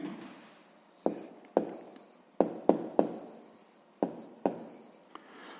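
A pen scratches across paper while someone works out a sixth-grade maths exercise, coming in quick separate strokes with short pauses between them, close and fairly quiet.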